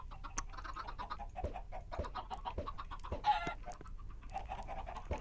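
Minecraft chickens clucking, a busy run of short, close clucks and pecking-like ticks repeating irregularly throughout, moderately quiet with one brief louder squawk partway through.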